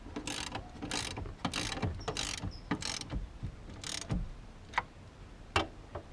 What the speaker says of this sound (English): now with the ratchet, go ahead and just snug the bolts down